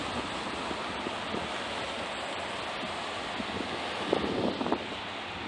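Wind blowing outdoors, a constant broadband rush of gusts buffeting the microphone, loud and steady throughout with a few brief bumps near the end and no voices.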